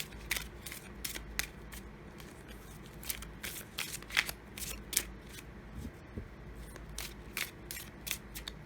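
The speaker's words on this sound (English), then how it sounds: "let's get these shuffled just a little bit" Tarot cards being shuffled by hand, a steady run of crisp papery riffles and flicks, close and moderately quiet, with no talking.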